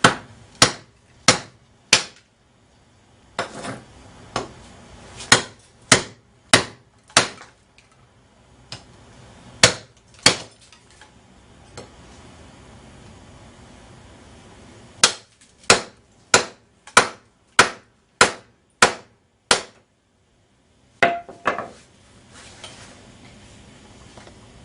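Sharp, loud hammer blows strike the spine of a Busse FFBM knife during a destruction test, coming in quick bursts of regular metallic whacks separated by short quiet pauses.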